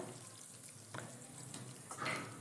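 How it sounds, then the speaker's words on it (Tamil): Onion pieces and a sprig of curry leaves frying in oil in a pan for okra tamarind curry, a steady soft sizzle with a few stirring scrapes, no talking. "இது எல்லாத்தையும் நல்லா எண்ணெயிலே வணக்கி விட்டுடலாம்"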